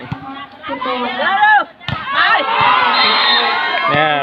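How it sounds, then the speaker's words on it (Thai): Crowd of students cheering and shouting around the field at a Thai school colour sports day, a loud continuous roar with high excited voices, briefly dipping before swelling again. "เห็นรอบขอบสนามมาเชียร์กันอย่างเต็มที่สนุกสนานไปด้วยกัน"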